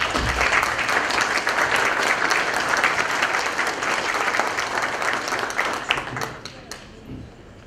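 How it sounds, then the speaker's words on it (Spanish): Sustained applause from an audience at a notaries' national congress ceremony in Huaraz, Peru, steady and dense for several seconds before thinning out near the end. "Aplausos."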